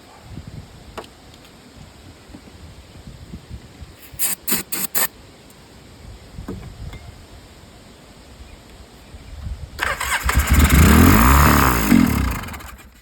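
A Polaris 700 snowmobile engine being cranked, with a few short clattering pulls in quick succession, then a louder, longer roar near the end as it briefly fires or turns over.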